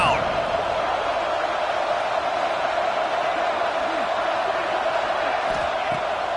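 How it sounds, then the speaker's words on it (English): A stadium crowd in a football video game roars in a dense, continuous wall of cheering on a defensive third down, loud and steady throughout, with commentary voices faintly under it. "Crowd getting this defense whipped up on third down."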